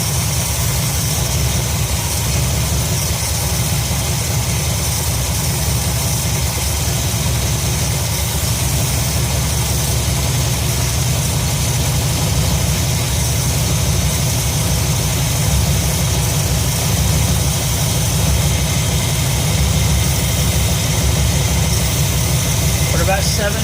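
Ford 302 V8 in an F100 truck idling at roughly 625 rpm, a loud, steady low rumble that holds constant throughout.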